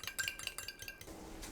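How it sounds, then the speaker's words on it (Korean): Eggs are beaten in a bowl, making a fast run of quiet rhythmic clinks and taps that gives way to a softer swishing stir. "계란을 풀어주세요"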